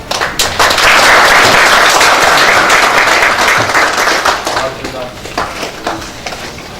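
Attendees at a public lecture on fire safety engineering give loud, dense applause that swells quickly, holds, then thins out into scattered, fading individual claps.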